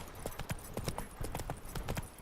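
Geralt's horse Roach trots along a road in The Witcher 3, with sharp, evenly spaced clip-clop hoofbeats at a brisk rhythm, close and clear throughout.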